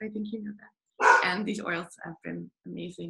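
A pet dog barks a few times in a room while two people carry on a conversation, the barks mixed in under their voices.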